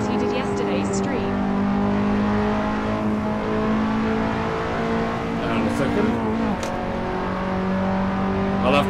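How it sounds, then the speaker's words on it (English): Race car engine roaring steadily in the Assetto Corsa driving game, loud and continuous with shifting revs, while someone talks over it. "I couldn't hear it over the roar of this engine"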